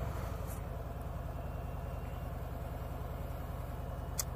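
A 2018 Harley-Davidson Breakout motorcycle engine runs with a low, steady, pulsing rumble, fairly quiet and unbroken throughout, with no voices over it.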